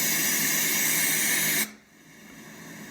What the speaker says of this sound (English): So this is white noise.